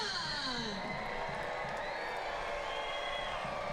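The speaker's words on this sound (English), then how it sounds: "Ivy fans, it's time to get on your feet and get loud." A soccer crowd roars at City Stadium in Richmond during a Richmond Ivy match. The cheering holds as a continuous, dense wall of voices, with whistling and horn-like tones sliding above it.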